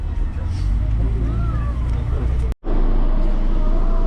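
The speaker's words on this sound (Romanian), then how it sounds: "Și am intrat în mină acum cu autobuzul." A bus drives into the Praid salt mine, a steady low engine rumble heard from inside the vehicle, loud and continuous with a brief cut near the end, and people talking faintly in the background.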